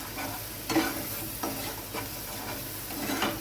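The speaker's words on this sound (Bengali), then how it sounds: "মশলাটা দিয়ে আমি খুন্তি দিয়ে ভালো করে নেড়ে নিচ্ছি।" Spatula stirring butter and ground spice paste with whole garam masala in a pan for a prawn gravy, giving a steady sizzle with several louder scraping strokes.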